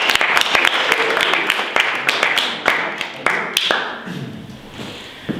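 Audience applause for a participant on stage: a burst of sharp, close claps with scattered louder hits, tapering off over several seconds.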